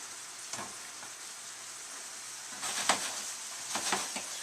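Cavatappi pasta cooks in sauce in a hot pan, a steady soft sizzle hissing throughout with a few sharper stirring scrapes and bubbling pops swelling toward the end.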